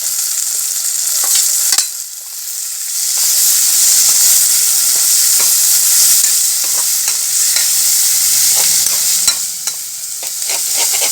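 Tomatoes fry in hot oil with a loud, steady sizzle, broken now and then by scraping stirs of a spoon against the pan.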